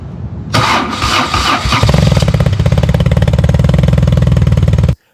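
A BMW R1200C motorcycle engine starts and settles into a steady, loud mechanical idle, with rapid rhythmic valve tapping running throughout and no voices.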